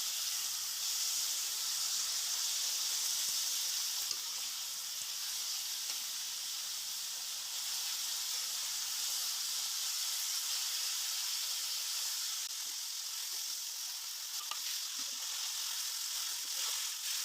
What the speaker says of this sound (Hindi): सारा कीमा ऐड करने के बाद हम इसके अच्छी तरीके से भुनाई करेंगे।